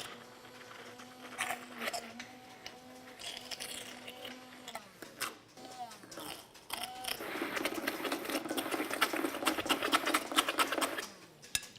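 Fruit puree being mixed with iota gum and brought to a boil in a pastry kitchen: steady mechanical whirring and clicking of a machine, growing louder and denser over the clip, with no talk.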